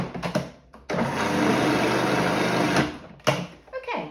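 Food processor whizzing a cheesecake sponge mixture with a pinch of salt: a short buzz, then a steady loud motor whir for about two seconds that cuts off abruptly, followed by brief rattles and bumps.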